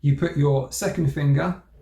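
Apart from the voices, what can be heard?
No everyday noise stands out behind the speech.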